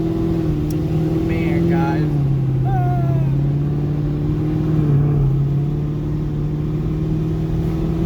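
A 1000HP ProCharged Camaro SS droning with a deep steady engine note whose pitch steps up and down as it pulls and revs, heard from inside under a voice.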